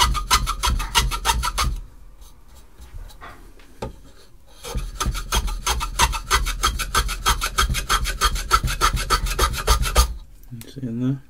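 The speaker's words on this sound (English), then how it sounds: "Just going to take off some little shavings." Vintage Stanley hand plane, once very rusty and now restored, set very fine and taking thin shavings from wood: a rapid run of rhythmic rasping strokes, loud and close, broken by a short pause before a second long series.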